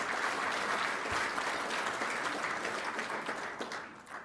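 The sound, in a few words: audience applause for co-sponsors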